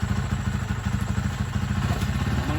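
A Rusi Macho 125/175 motorcycle engine runs on choke with a steady, throbbing, rapid idle putter, loud and close, alone without talk.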